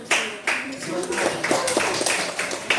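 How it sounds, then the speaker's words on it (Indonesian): A class of schoolchildren claps hands together in a primary maths lesson, a quick burst of sharp, fairly close claps that soon settles into a steadier, looser patter. "Tepuk tangan"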